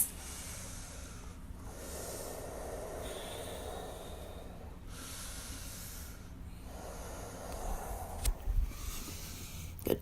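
Slow, deep breaths during a yoga wheel pose, long airy inhales and exhales alternating in a steady rhythm at close range, with a few soft bumps near the end.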